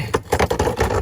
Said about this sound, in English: Excuse the noise because the creeper's loud.